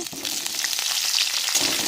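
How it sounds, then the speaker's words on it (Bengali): Vegetables such as cauliflower sizzling in white oil in a wok make a brief, close, steady frying hiss with light stirring, and no voices. "সবজিগুলোকে ভেজে নেব"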